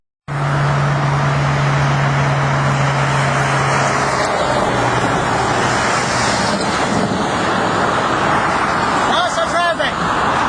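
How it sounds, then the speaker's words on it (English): Road traffic outside Moncton rushes past steadily, a dense close roar of passing vehicles with a low engine hum early on, loud and continuous throughout. "Lots of traffic."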